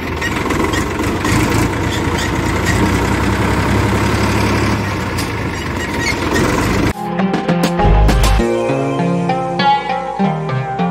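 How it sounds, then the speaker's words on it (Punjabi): A tractor engine, with a newly repaired self-starter and a greased alternator, runs loudly at a steady idle for about seven seconds, then the tone abruptly changes to a sharper, rattling mechanical clatter with some knocks. "ਟਰੈਕਟਰ ਹੁਣ ਤਾਂ ਅੱਧੀ ਸੈਲਫ ਉੱਪਰ ਸਟਾਰਟ ਹੁੰਦਾ"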